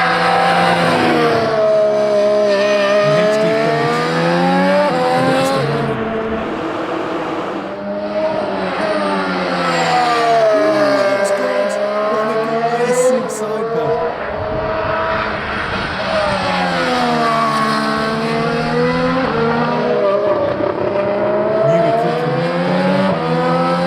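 Aston Martin AMR26 Formula 1 car running on track, a loud high-pitched engine wail rising and falling through repeated gear changes over about twenty-four seconds, with a brief lull midway.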